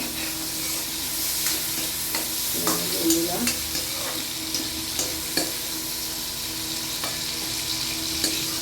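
Shrimp frying in a pan in a home kitchen, giving a steady, close sizzle that runs the whole time, with light stirring clicks and scrapes on top and no voices.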